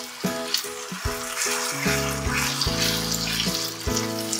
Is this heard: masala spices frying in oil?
yes